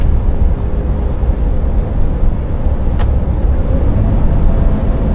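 Scania 450 truck cruising at 55 mph, a loud, constant low drone of engine and road noise from inside the cab, with a brief hiss partway through and no talking.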